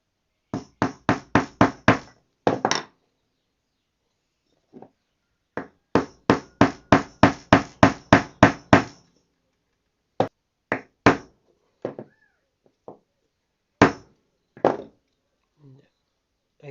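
Nails hammered into a wooden block for a homemade wood-burning tool, bursts of sharp close knocks in rapid rhythmic runs, then sparser single strikes with short pauses between.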